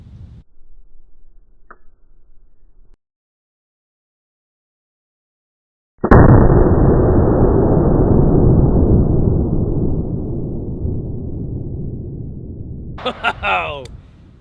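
A single shot from a Smith & Wesson Performance Center 500 Magnum revolver with a 10.5-inch barrel goes off as one loud, close blast. A long, rolling decay follows, then brief sounds of people afterwards.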